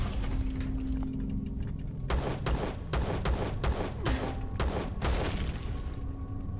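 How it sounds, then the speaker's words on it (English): Gunfire in the video game Empyrion Galactic Survival hits the player through a wall: a rapid run of sharp, punchy impacts starts after a steady hum, then continues as a loud, irregular burst of shots. "Right, so something is telling me I'm getting shot by something through that wall."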